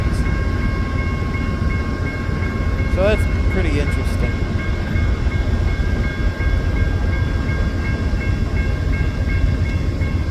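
An Amtrak train with a Metroliner car, a Viewliner car and a Heritage Series car rumbles past, close, steady and loud, with a continuous roar and a faint horn-like tone throughout, while someone talks over it.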